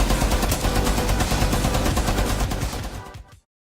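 Sustained SMG fire in the shooter game Rainbow Six Siege, loud and continuous rapid gunfire close by that cuts off abruptly into silence.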